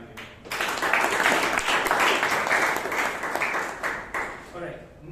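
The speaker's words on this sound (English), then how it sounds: "big round of applause to the speaker and to the evaluator." Round of applause from a Toastmasters club audience for a speaker and evaluator, a full burst of clapping in a meeting room that swells, holds steady, then thins out near the end, with speech overlapping.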